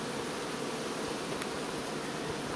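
A dense, steady hum of honeybees fills a hive of a colony that was queenless and has an introduced queen. The continuous, close buzzing does not vary and no voice is heard.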